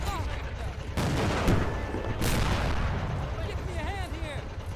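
Artillery fire and gunfire in the World War II strategy game Men of War: Assault Squad 2, Pacific war battle of Clarence Hill, with dense bursts of shots and loud booms around the one- and two-second marks over steady battle noise.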